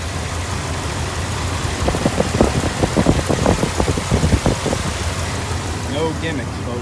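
1993 Dodge Dakota truck idling while running on gas vapor alone, a steady low engine rumble with a burst of uneven knocking pulses in the middle, recorded up close outdoors; someone talks briefly near the end.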